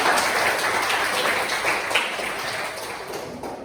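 A group applauding together in a classroom, a dense burst of clapping that is loudest at the start and slowly thins out.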